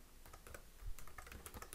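Quick, light keystrokes on a computer keyboard while entering Matlab commands, a steady irregular patter of close, soft clicks with no talking.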